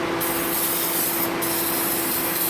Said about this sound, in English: I want to wash these pulleys down